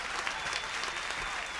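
Concert audience at The Roxy in New York City, 1977, applauding the orchestra in a dense, steady wash of clapping heard close and continuous throughout, with a faint crowd murmur beneath.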